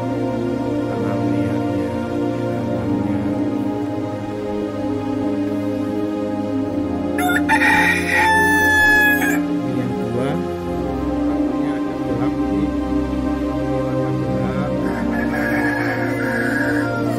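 Village chickens on a Madura farm cluck steadily while a rooster crows loudly once near the middle, with a constant low hum beneath.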